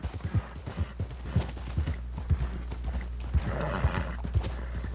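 Horse hooves clip-clop steadily in Red Dead Redemption 2, a regular rhythm of close, punchy footfalls over a constant low rumble, with a brief whinny-like sound mixed in.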